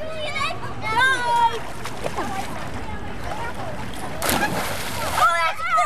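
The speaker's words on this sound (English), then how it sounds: "You go straight up and then land on your back underwater" Splashing water churns in an outdoor public swimming pool as divers hit the surface, with a sharp burst of splash near the end, mixed under excited children's and adults' voices nearby.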